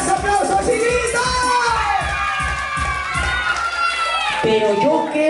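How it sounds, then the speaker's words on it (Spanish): At a children's school event, a crowd applauds and shouts for the teachers, a loud mix of clapping, cheering and high children's shouts, with rhythmic claps standing out early. "¡Las profesoras, aplausos y gritos!"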